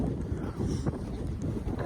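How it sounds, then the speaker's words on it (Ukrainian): Strong wind buffeting the microphone outdoors in a sunflower field beside a tractor, a steady loud low roar with gusty swells throughout, no voices. "Вітер то страшний."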